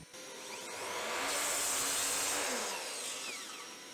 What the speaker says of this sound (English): now I'm using my miter saw to cut out the rest of the pieces for this project